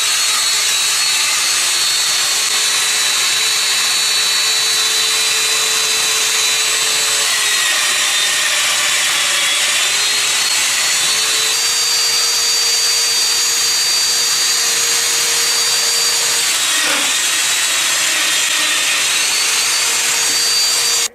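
Festool Domino joiner cutting a mortise in wood for a baby gate, a loud, steady high whine with a vacuum-like hiss and slight shifts in pitch as the cutter plunges and moves, with no voices.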